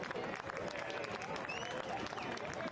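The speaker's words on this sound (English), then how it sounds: "Smattered applause from around the ground." Scattered applause from a soccer stadium crowd at a Forward Madison FC match ripples steadily from around the ground, heard at a distance under a continuous crowd murmur.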